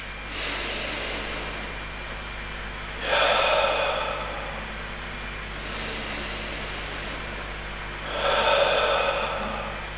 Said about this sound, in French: vous prenez de profondes respirations en inspirant longuement par le nez et en expirant par la bouche